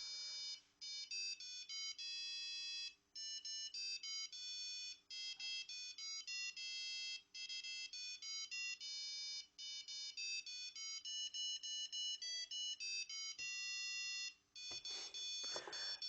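A small ESP32 gadget plays a bright, beeping Christmas ringtone melody in quick electronic tones, repeating in phrases with short pauses, clear and close, with no talking.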